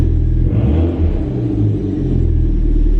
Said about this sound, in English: So I'm gonna start it up here and hope for the best.